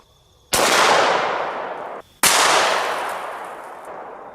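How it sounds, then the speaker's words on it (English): Two loud pistol shots from a Canik TP9 SFX 9mm firing 147-grain +P full metal jacket rounds outdoors, each a sharp crack followed by a long decaying echo, about one and a half seconds apart. "We have a Canik TP9 SFX, very cool gun."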